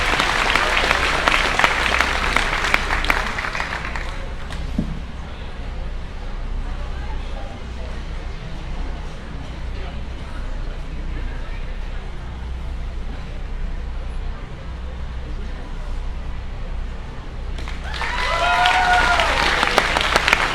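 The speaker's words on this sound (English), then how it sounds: "give them a big round of applause" Audience applause at the Arizona National livestock show grand drive, a steady crowd clapping loudly at the start, fading under a murmur of arena noise, then swelling again near the end with faint whistles.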